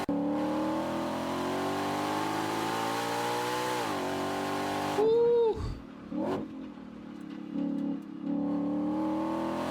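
An 815 hp Ford Mustang GTD's loud exhaust roars as it accelerates hard, the engine pitch climbing steadily before a gear change and more revving. A person briefly whoops.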